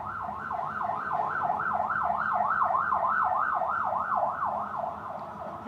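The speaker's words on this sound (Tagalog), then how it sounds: "mayroon na namang ambulansya, maingay." A wailing ambulance siren cycles steadily up and down, fairly loud and nearby, with road traffic rumbling underneath.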